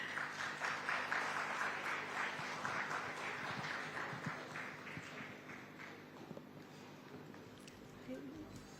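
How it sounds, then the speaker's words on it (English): A conference audience at the India Today Conclave applauds to welcome actor Rukmini Vasanth on stage, with dense, sustained clapping that gradually thins and softens. "please, if all of you could give a big round of applause for Rukmini Vasanth."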